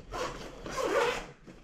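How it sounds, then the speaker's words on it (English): A zipper on the sleeve of a Crank Hustle V-SET65 food delivery backpack is pulled open in one smooth, close rasping stroke, quiet and brief, with no voices. "on this sleeve, there's also another zipper"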